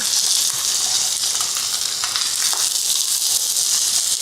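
A pot of beef and barley sizzles loudly and steadily as a spatula stirs it, the hiss constant and close with faint scraping running through it.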